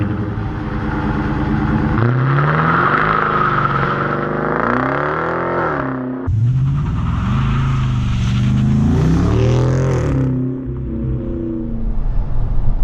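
A 2017 Dodge Challenger T/A's 5.7 V8 revs hard with a deep, throaty active exhaust, rising and falling through several loud pulls as the car accelerates nearby.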